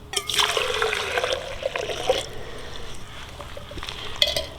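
Hot water pours from a Stanley camp pot into a coffee system, a short splashing trickle that surges for about two seconds, then tapers into faint drips and a light clink.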